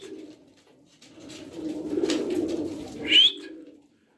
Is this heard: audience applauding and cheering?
no